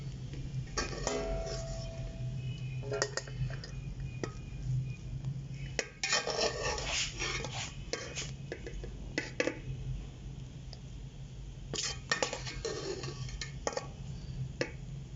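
Jaggery rice being spooned from a cooking pot onto a plate, with intermittent clinks and scrapes of utensils against metal and dishware in short bursts at a steady moderate level, no talking.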